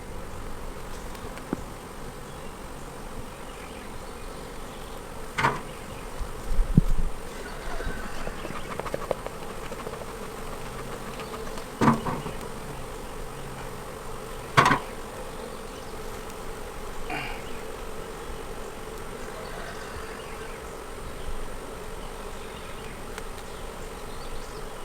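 Honey bees buzz inside an open hive, a faint steady drone with occasional louder close passes and small knocks as frames are handled; no talking.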